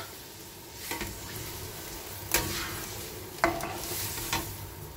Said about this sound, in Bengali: সব কিছু দিয়ে এবার একটা কষিয়ে নেব।